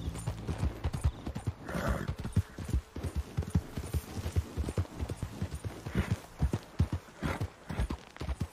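Horse hooves clip-clop at a steady walking rhythm in Red Dead Redemption 2, with a brief whinny partway through and a faint low hum beneath.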